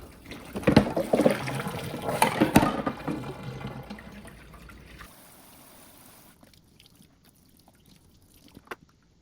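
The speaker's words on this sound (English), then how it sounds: "And usually I just let my water run for a while." Water gushes and splashes from a tap for several seconds, then cuts off, leaving near silence with a couple of faint drips.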